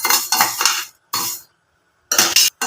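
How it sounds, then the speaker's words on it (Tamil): Black urad dal dry-roasts in a pan with garlic, cumin and dried red chillies, heard as loud close bursts of scraping and rattling stirring separated by short silences. "உளுந்து நல்லா வறுபட்டுருச்சு"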